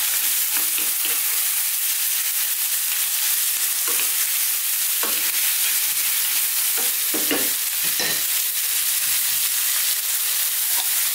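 Chunks of stewing beef, a chuck-like braising cut, sear in a pan over high heat. A loud, constant sizzle runs throughout, broken by sharp scrapes and clatters as the meat is tossed and stirred.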